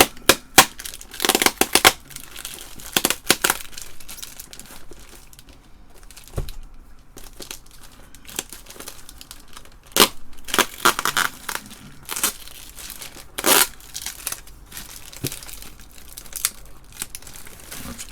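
Taped packaging being torn and pulled off an IMSAI 8080 replica computer, with close, loud bursts of crinkling, ripping and crumpling in irregular clusters and quieter pauses between them.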